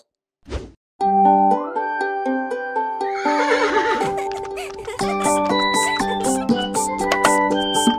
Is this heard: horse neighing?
yes